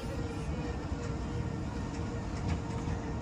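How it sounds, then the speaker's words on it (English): A Wildwood boardwalk tram car approaching and rolling past, a steady broadband rumble that holds even loudness throughout, heard amid open outdoor boardwalk ambience. "We also have the first tram car on the left-hand side coming our way."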